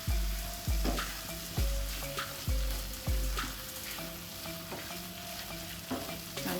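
A spoon scrapes and stirs bitter gourd masala in a pan after garam masala is added, giving repeated rhythmic scraping strokes about once a second over a steady close sizzle of frying.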